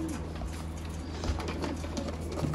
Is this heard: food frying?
no